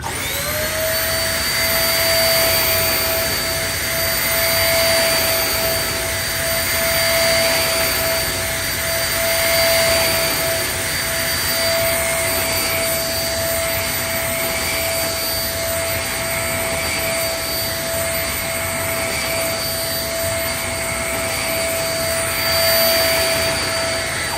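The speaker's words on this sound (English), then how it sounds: "the nozzle really does suck down to the carpet. Okay, here we go for 20 passes." A Shark NV22 vacuum cleaner runs steadily over carpet, a loud, continuous motor whine with a high tonal hum that holds throughout, without talk.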